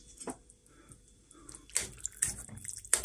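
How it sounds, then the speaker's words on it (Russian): Water is poured into a pot for soup, coming in short faint splashes and trickles, with a few louder gushes toward the end. "И ставим все это дело сюда, заливаем."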